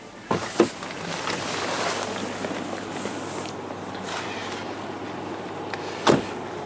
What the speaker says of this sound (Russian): давайте я вам покажу, как работает пневмоподвеска. Мы ее сейчас опустим в погрузочное положение.